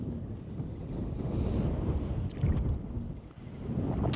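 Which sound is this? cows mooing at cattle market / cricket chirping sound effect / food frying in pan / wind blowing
wind blowing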